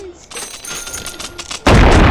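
Shotgun blasts in the VR game Animal Company: noisy crackling fire through most of the moment, then a loud, heavy boom near the end, close and forceful.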